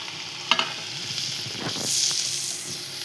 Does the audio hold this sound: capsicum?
yes